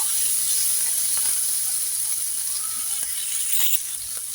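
Onions and potatoes sizzle and hiss steadily in a hot pan, with occasional soft clicks of stirring and no talking.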